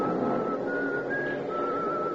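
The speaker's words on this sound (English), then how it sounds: "Over the noise, I hear some contented soul whistling." A person whistles a steady, wavering tune, clear and fairly close, over a low murmur of background noise.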